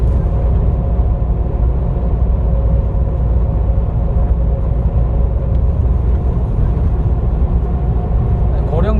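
A truck engine drones steadily as the truck climbs an uphill stretch toward Seongju at night, a constant loud low rumble with a faint whine, with no break over the whole stretch.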